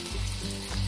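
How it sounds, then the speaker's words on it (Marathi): Potato balls deep-frying in hot oil give a steady close sizzle with low bubbling, building after a brief quiet start and holding loud throughout, no voices. "तरी आता हे बॉल्स आपण छान तळून घेऊ। तेल आपलं छान तापलेलं आहे,"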